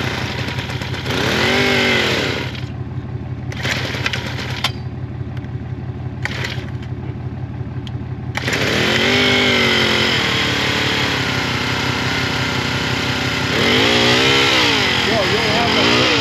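Portable capstan winch engine puttering loudly and steadily at night during a moose recovery, with brief throttle surges and people talking over it.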